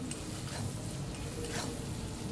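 Shrimp with taro greens frying in a pan while being stirred: a steady, close sizzle with soft scraping strokes throughout.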